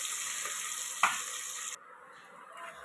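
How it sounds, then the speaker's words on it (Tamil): Chopped onions and two green chilies sauté in a hot pan with a steady, close sizzle that briefly flares midway, then settles into a softer frying hiss. "அதோட பச்சை மிளகா ஒரு 2 பச்சை மிளகா போட்டு நல்லா பொன்னிறம் மாறுதலும் நல்லா வதக்கலாம்"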